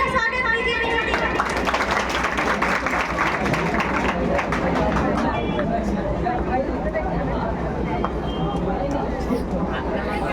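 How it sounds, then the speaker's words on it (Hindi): Audience applause welcoming a speaker at a Teacher's Day gathering, a dense, steady clapping from a crowd that fills the whole stretch with some babble of voices mixed in. "प्लीज जोरदार तालियों से उनका स्वागत कीजिए"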